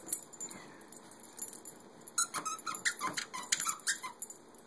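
A corgi chews a squeaky chicken dog toy, with bursts of sharp, high squeaks coming in quick irregular runs between softer chewing and rustling sounds, heard close.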